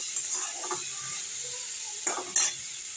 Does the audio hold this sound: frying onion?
yes